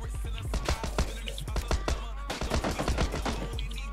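Rapid automatic gunfire in PUBG, the M16 in hand, crackles in dense repeated bursts throughout, sharp close shots stacked over a steady low rumble with little pause between them.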